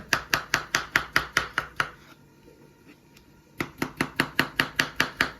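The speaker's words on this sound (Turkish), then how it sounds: "kivilerimizi de doğruyoruz" A knife chops peeled kiwi steadily on a board, about a dozen even strokes, then a short pause before another quick, regular run of chops.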